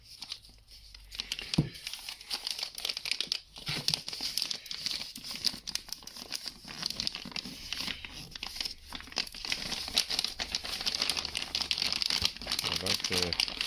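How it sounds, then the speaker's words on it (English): Heavy plastic packaging around a Televue Ethos 21mm eyepiece crinkles and crackles continuously up close, with brief quiet speech over the handling. "I like the sound of this plastic, quite strong."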